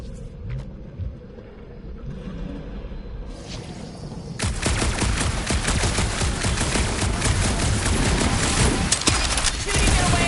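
Heavy combat in the action game Marvel's Guardians of the Galaxy, with quiet rumbling giving way to a dense, sustained barrage of rapid blaster fire and impacts that stays loud to the end.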